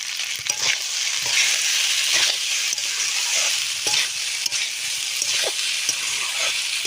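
Egg pasta with salt and turmeric is stirred in a hot pan, giving a steady bright sizzle with repeated scraping and tossing strokes, close and alone without speech.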